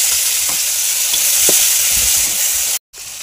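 Tempered spices and tomato fry in a pan with a steady sizzle, while stirring adds occasional soft knocks and scrapes; the sound cuts out for a moment just before the end.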